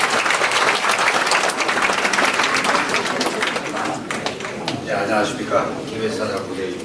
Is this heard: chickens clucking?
no